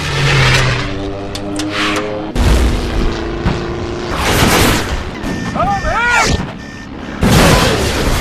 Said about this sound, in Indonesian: pesawat Dieter terkena tembakan dari musuh yang mengakibatkan sayap pesawat bagian kirinya patah dan membuat pesawatnya terjatuh